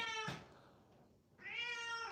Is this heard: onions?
no